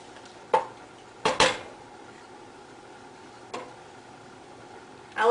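Salmon pieces going into a cooking pot for salmon stew: a few sharp clinks and knocks of utensil against pot, with quiet gaps between them and no voices.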